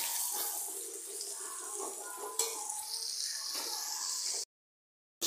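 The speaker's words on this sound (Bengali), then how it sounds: "মশলা ভালো করে কষানো হচ্ছে" Spice paste for a Bengali koi fish curry frying in oil in a pan, making a bright hissing sizzle with light stirring clinks, close and steady for about four seconds before cutting to silence.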